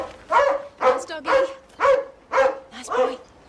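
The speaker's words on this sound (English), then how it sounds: "Nice doggy." A dog barks six times in a steady rhythm, close and fairly loud, with short pauses between each bark.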